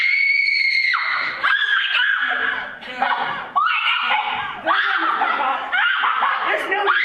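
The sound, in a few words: screaming on stage in a theater play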